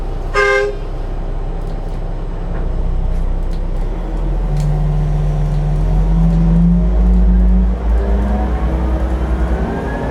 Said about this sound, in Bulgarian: С контролера задаваме обороти на дизеловия двигател.